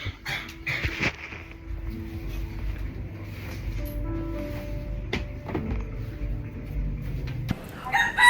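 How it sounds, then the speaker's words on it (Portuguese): A rooster crows and clucks nearby, with a dog also heard, set against a quiet outdoor background and short bursts of other noise. "Galo maluco aqui."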